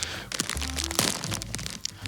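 Crinkly plastic rustling and a sharp tearing crackle as a snack bag is pulled open, close up, with faint low background hum.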